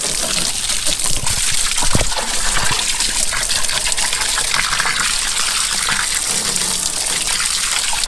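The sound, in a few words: clean water poured into house septic tank filters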